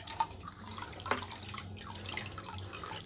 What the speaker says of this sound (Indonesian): Coba kita aduk lagi.